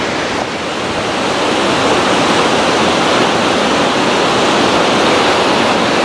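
Namaste Waterfall in Nepal, a loud continuous roar of falling water, broad and steady, alone without voices.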